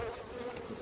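Agitated honey bees buzz at an apiary hive, a dense, steady droning hum close to the microphone for under a second.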